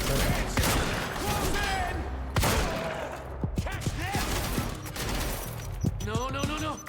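Gunfire in the video game Quantum Break, with repeated sharp shots and bursts across a dense, loud game soundtrack, under occasional talk.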